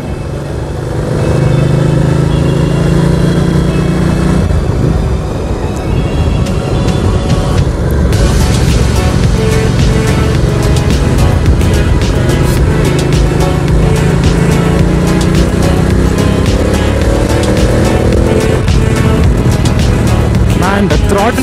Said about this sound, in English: man, the throttle response on this bike is brilliant